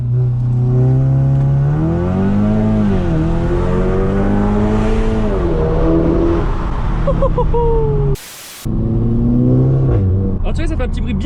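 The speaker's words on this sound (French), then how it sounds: "On va tout de suite tester le launch control." A tuned Audi TT with an ABT Stage 3 upgrade launches hard under launch control, its engine note climbing and dropping through several gear changes, loud and close, with a short silent gap before it resumes.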